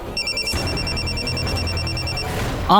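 A telephone rings during a call, a bright electronic ringtone repeating in short pulses for about two seconds, fairly loud over a low background rumble, then a brief different tone at the end.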